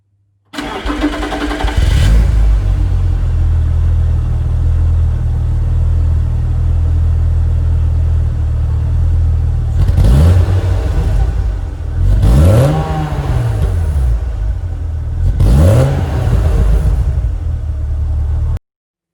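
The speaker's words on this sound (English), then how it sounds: "the exhaust note is very similar, which is to be expected given both are M52 based engines with similar specifications" Alpina B3 3.2 Touring E36 with its M52-based straight-six cranks and fires, then settles into a deep, steady idle broken by three sharp throttle blips that rise and fall, heard close with no talk.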